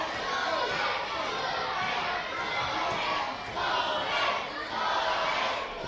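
Raucous wrestling crowd filling a sold-out theatre during a match, a dense wall of shouting and chanting that swells and pulses in waves, with voices calling out together.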